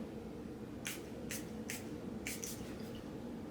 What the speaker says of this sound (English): now I'm going to spray this just 3 times.